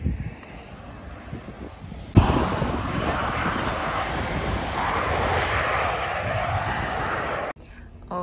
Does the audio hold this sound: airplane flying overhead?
yes